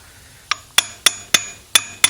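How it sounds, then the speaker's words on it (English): A deep well socket taps a new seal into a Johnson raw water pump, six sharp metallic clinks in quick, fairly even succession, close and clear with no talk. "we're going to take a deep well socket and lightly tap that into place"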